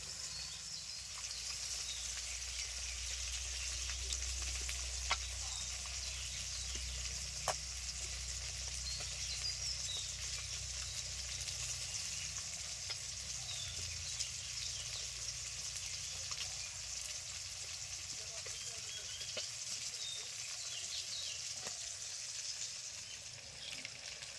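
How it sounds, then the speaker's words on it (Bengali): Small mixed fish fry in oil, a faint, steady high hiss of sizzling that runs unbroken for a long stretch with occasional tiny pops and ticks, no voices. "মাছগুলো ভাজা হচ্ছে"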